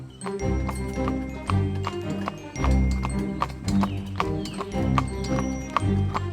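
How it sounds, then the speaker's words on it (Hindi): A caravan of horse-drawn carriages approaches a village in an animated Hindi fairy tale, steady hoof clip-clops in quick rhythm with jingling harness bells, fairly loud and close, without talk. "देखो, कोई घोड़ा गाड़ी का काफिला गांव आ रहा है।"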